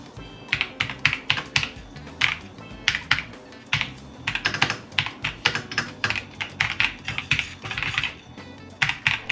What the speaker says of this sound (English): the typing experience is quieter, more refined, and has that deeper, more satisfying thock sound